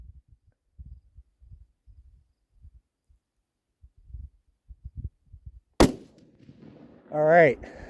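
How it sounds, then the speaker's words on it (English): A scoped bolt-action hunting rifle fires one loud, sharp, close shot after several seconds of quiet, low thumping handling sounds. A brief voice follows the shot. "my finger is on the trigger nice and light because I'm going to shoot now"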